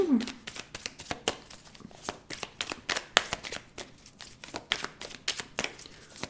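Tarot cards shuffled and drawn from a deck, a run of quick crisp riffling and flicking bursts in an uneven rhythm, close and fairly soft, with no talk over them.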